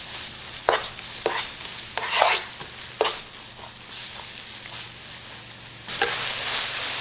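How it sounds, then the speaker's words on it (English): Herbs, garlic, ginger and onions stir frying in hot oil in a pan for pan rolls, with a continuous close sizzle broken by repeated scraping spatula strokes at irregular intervals throughout. "add the herbs and then the garlic, ginger and the onions. Stir fry a few minutes."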